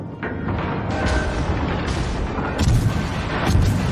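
Naval gunfire and explosions in World of Warships Legends on Xbox during a Weymouth cruiser battle, loud rumbling booms and repeated heavy blasts layered over a constant roar.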